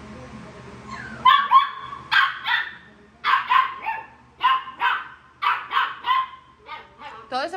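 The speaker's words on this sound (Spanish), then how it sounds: "Pero cada vez que la bajo es a gritar. Bueno, a ladrar." A small dog barks in a rapid, insistent series of sharp, high yaps, close and loud, indoors at home, with a few whiny yips mixed between the barks.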